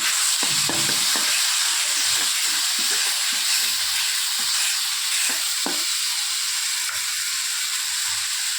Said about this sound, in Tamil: ஒன்றா தட்டி பச்சை வாசனை போகிற வரைக்கும் நம்ம நல்லா வதக்கி வச்சுக்கணும்.